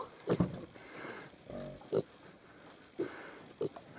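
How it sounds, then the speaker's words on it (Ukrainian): Short grunts from a Hungarian Mangalica pig repeat at irregular intervals over a steady low background hum, close by and fairly loud. "Свинка."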